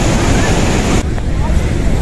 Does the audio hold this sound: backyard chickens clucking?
no